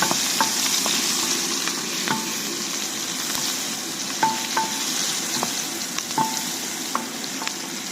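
Onion, chili, ginger and garlic sauté in a hot pan with steady sizzling and frying, while a spatula scrapes and clinks intermittently. Nobody speaks.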